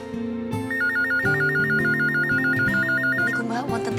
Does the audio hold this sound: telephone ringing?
yes